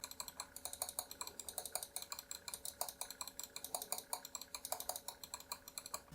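Main buttons of an MSI Clutch GM31 lightweight wireless mouse click over and over in a steady, fairly brisk rhythm of sharp, crisp taps, close to the microphone and quiet, with no talking.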